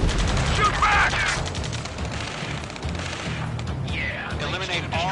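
Dense video-game firefight with rapid, continuous gunfire and bursts of automatic fire, loud and close throughout, mixed with shouted combat voices and radio-style chatter.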